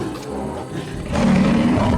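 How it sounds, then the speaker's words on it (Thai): A tiger roars outside a house in an animated Thai ghost story, a deep, rough, swelling growl that grows louder and heavier halfway through over a dark rumbling backdrop. "ได้ยินเสียงคำรามของเสือดังขึ้นอีกครั้งจากด้านนอก"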